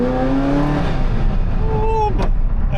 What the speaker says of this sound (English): Oh, I'm driving an F40.